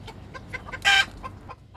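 Domestic country chickens cluck in a backyard coop where a young rooster is growing up, giving a run of short, fairly close clucks with one louder, sharper call about halfway through and no talking.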